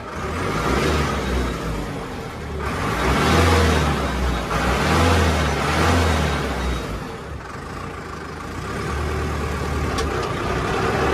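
A Sonalika 60 RX tractor fitted with a turbo revs loudly close by, its diesel engine swelling in several long surges and easing back between them.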